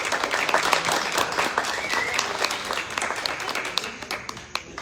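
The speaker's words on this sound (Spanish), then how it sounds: "Le damos un aplauso a Luis, si quieren." An audience bursts into applause at a Spanish-language literary interview event, a dense flurry of clapping that fades over about five seconds with faint voices mixed in.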